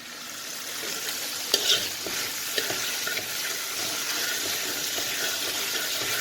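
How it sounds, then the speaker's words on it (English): Onions fry in a pan over medium heat, a close, steady hiss and crackle holding throughout with a few sharper pops and stirring clinks near the start. "Okay, let it fry for 2 minutes."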